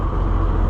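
Cummins 855 Big Cam diesel in a Ford L9000 semi truck running at fast idle, a steady, loud, close rumbling drone with no break over its brief span.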